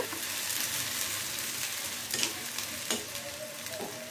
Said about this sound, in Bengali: আমি কাঁচামরিচ দিয়ে দিচ্ছি তিন চারটা কাঁচামরিচ আর দিয়ে দিচ্ছি আমি একটু রসুন বাটা